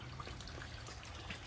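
Water stream flushing out of a farm truck's radiator, a steady broadband trickling and splashing rush that stays continuous and fairly close throughout, with no talk.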